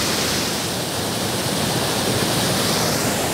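A waterfall roars in steady, dense rushing white noise. It stays loud and continuous throughout with no voices.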